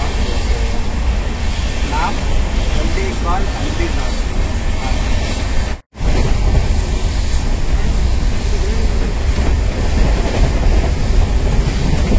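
Darjeeling Mail express train running fast at night through an empty station, a steady loud roar of wheels and carriage rumble with faint clatter, briefly cut out for a moment midway.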